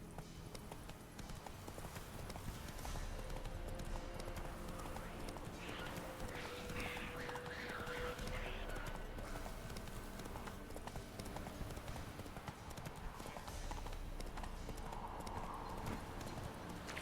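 Horse hooves galloping steadily in The Witcher 3 video game, a fast continuous clip-clop over the whole stretch with a brief whinny, loud and close against game ambience.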